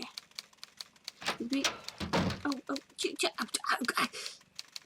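Rapid typing from the Nancy Drew: Treasure in the Royal Tower video game, dense clattering keystrokes in bursts across several seconds, close and fairly loud, with a voice talking over part of it.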